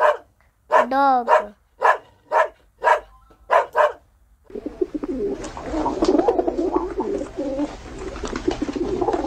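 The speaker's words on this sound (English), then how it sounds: "Dog." A dog barks several times in a sharp, evenly spaced series, then a busier, noisier stretch follows with bird cooing and general commotion.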